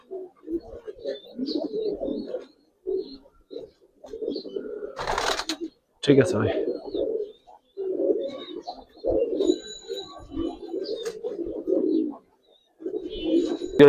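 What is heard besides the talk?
Giribaz pigeons cooing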